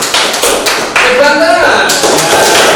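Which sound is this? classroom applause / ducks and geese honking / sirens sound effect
classroom applause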